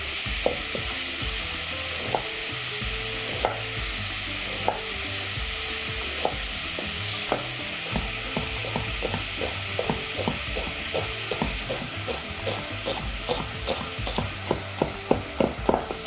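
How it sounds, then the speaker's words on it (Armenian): Two medium onions, finely chopped, sizzle steadily in a pan while a utensil stirs them, giving a run of sharp scraping clicks that quicken toward the end over a continuous frying hiss, close and alone. "մանր կտրատում և տապակում ենք"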